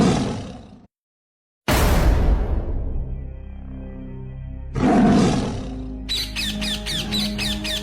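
A tiger roars in a Bengali cartoon: a loud, rough roar, then a brief silence, then a longer roar that fades, and a third burst that gives way to bright, rhythmic chiming.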